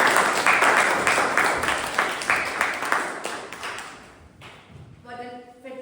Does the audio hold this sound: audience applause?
yes